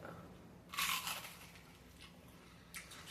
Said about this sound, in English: let's move on to the onion rings. Onion rings, we're going to take a bite.